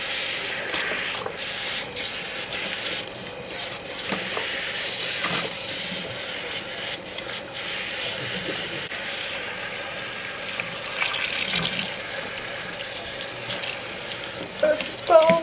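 Tap water runs and splashes steadily while hair is rinsed under a faucet, a continuous close wash of sound with small shifts as the flow is broken up.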